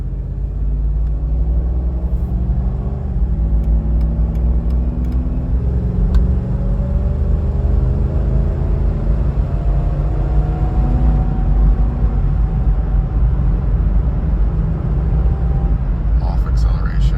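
A Mercedes G500 truck drives cold with a front differential fault, a loud, steady low road rumble under which several thin tonal whines rise and fall as speed changes.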